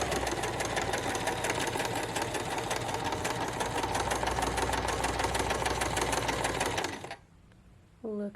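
A Kenmore 385 sewing machine sewing fabric runs steadily at speed with a fast, even mechanical rattle for about seven seconds, close and loud, then stops and leaves near silence with a brief final whir.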